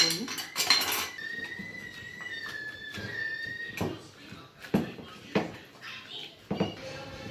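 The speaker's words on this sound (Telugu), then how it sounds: "ఇప్పుడు మనం పప్పు గుత్తి తీసుకొని మెత్తగా స్మాష్ చేసుకుందాం" Cooked dal is mashed in a pot with a wooden masher, making irregular close knocks, clatters and scrapes of utensils in short bursts with quiet gaps between.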